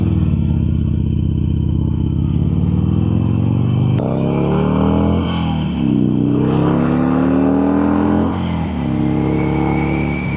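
A Harley stunt-style motorcycle engine revs loudly and close by, its throttle rising and falling in several surges over a steady rumbling idle.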